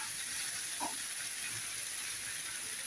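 Egg frying in a pan while making Maggi noodles gives off a steady, soft sizzle and hiss, continuous and close, with a faint clink partway through and no talking.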